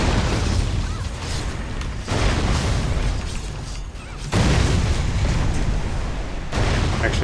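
Bombardment explosions from a boss fight in the video game TERA, a continuous loud rumbling barrage with heavy low booms that surge in several waves.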